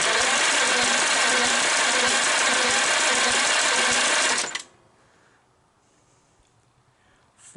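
A Farmall Cub tractor engine cranks over during a compression test, with a loud, even, rapid chugging rhythm for about four and a half seconds that then cuts off abruptly into near silence.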